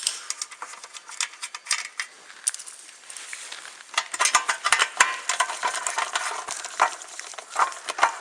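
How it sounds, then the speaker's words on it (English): A ratchet loosens the nuts on a diesel fuel filter, giving rapid, close metallic clicking in uneven bursts that grow busier partway through. "So I'm going to start them with a ratchet"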